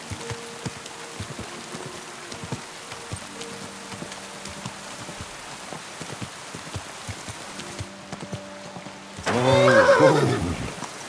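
In the video game Kingdom Come, a horse whinnies loudly near the end over steady rain and soft hoofbeats, with light clicking and tapping sounds throughout.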